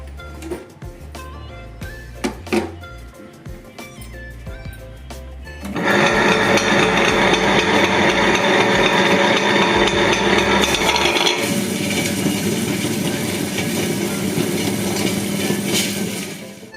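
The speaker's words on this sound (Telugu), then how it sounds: "కడిగే శుభ్రం చేసుకుని ఇప్పుడు గ్రైండర్ వేసేస్తాను." A kitchen wet grinder churns washed split black gram into batter, starting abruptly after a few quieter knocks and clatters, then running as a loud, steady mechanical whir that persists to the end.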